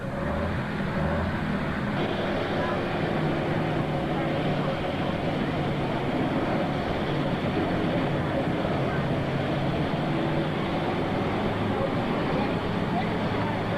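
A Ford superstock pulling tractor at a 1994 tractor pull in Imlay City, Michigan, roars loudly and steadily throughout without letting up, heavy and close, with a continuous mechanical drone.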